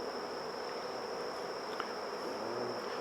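A honeybee colony hums steadily and densely during an open hive inspection, a continuous close buzz with a faint high tone and no talking.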